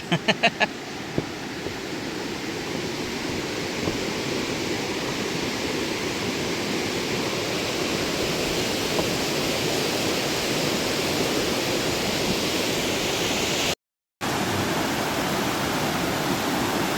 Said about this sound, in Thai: ก็อยู่ระหว่างกลางของน้ำตกเลย ที่ไหลลงมาจากด้านบนนะครับ